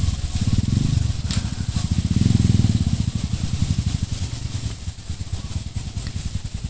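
Motorcycle engines putter nearby along a river, a steady throbbing chug that swells and eases over a constant background.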